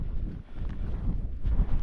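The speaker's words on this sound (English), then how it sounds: "It's very windy" Strong wind buffets the microphone in steady low rumbling gusts at a marina with sailboat masts nearby, swelling louder near the end.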